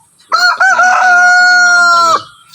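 A pet chicken rooster crows one loud, drawn-out call up close, with a short clucking lead-in before the sustained crow trails off into quiet.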